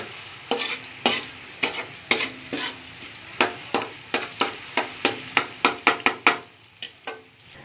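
Garlic sizzles in a pan, browning, with repeated scraping stirs, sharp clicks of a utensil against metal over a steady frying hiss.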